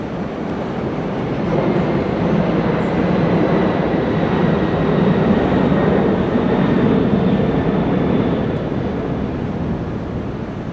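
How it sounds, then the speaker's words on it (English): A Miami monorail train passes overhead in downtown Brickell, giving a steady, loud rumble that swells and holds for several seconds over the city's background noise. "We've got the monorail above."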